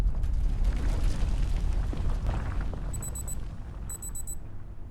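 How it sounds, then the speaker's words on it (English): An alarm clock in the video game Abiotic Factor beeps in two short bursts of rapid high electronic tones over a loud rumbling mechanical background noise. "Why is my alarm going off?"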